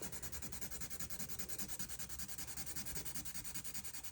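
Steady, rapid rubbing strokes of a colorless blender pencil smoothing colored pencil on paper, close and continuous, with a raspy back-and-forth texture and no talking.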